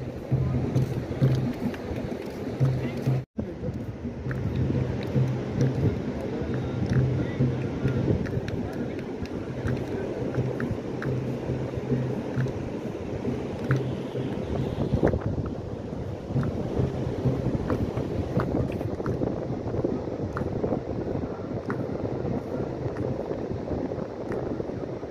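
Wind gusts buffet the microphone on a sea shore during a Ganpati immersion, with a low rumble of surf and faint voices underneath, steady throughout apart from one brief cut.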